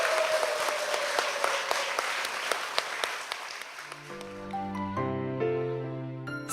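A church audience applauding at a Korean Christian broadcast event, a dense wash of clapping that fades as piano music rises and takes over.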